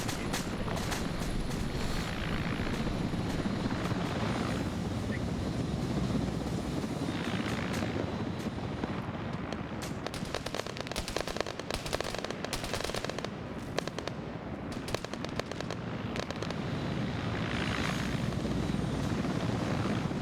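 An Apache attack helicopter in the Arma military game drones steadily with a dense rotor roar through the whole stretch, joined midway by rapid bursts of machine-gun fire and scattered pops.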